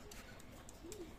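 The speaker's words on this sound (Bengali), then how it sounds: "ভিউয়ার্স এক পেয়ার কবুতর আছে, রানিং পেয়ার কবুতর।" Pigeons coo faintly in the background, soft low calls over a steady hum.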